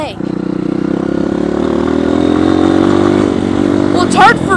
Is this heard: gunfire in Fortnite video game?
no